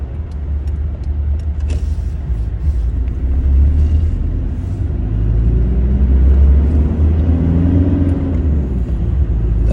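A car fitted with Monroe OESpectrum shock absorbers drives at under 80 km/h over a rough, uneven road, producing a loud continuous low rumble of tyres and suspension with a few faint knocks, steady and close from inside the cabin.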